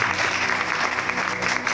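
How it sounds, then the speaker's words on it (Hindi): A church congregation claps hands together in steady, loud, continuous applause that fills the whole moment. "ताली बजा करो"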